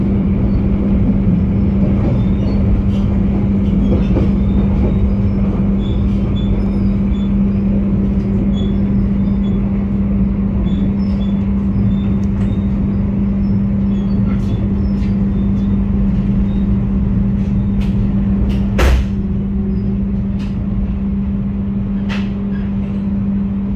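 Inside the Argo Lawu passenger train between Solo and Jakarta, a steady loud rumble and low drone run throughout, with a few faint clicks and knocks.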